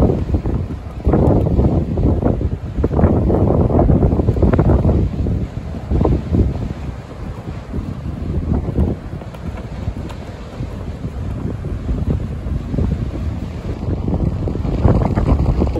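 Steady wind gusting across a Gulf Coast beach at Fort Walton Beach, Destin, a broad rushing roar with buffeting surges on the microphone and surf churning beneath, continuous and fairly loud with no talking.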